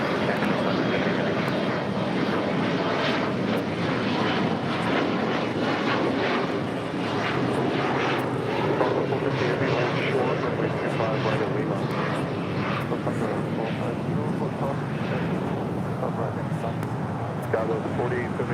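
A heavy airliner takes off from runway 25 Right at LAX, its engines a loud, continuous broadband roar throughout, with radio voices speaking over it.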